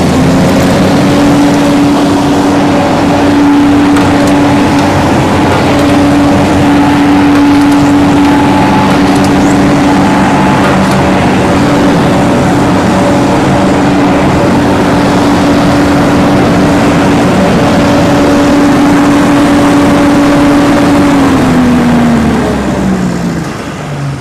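A 2008 FINN B70 hydroseeder engine runs with the throttle brought up, holding a loud, steady, droning rev for about twenty seconds before the pitch sags slightly at the end.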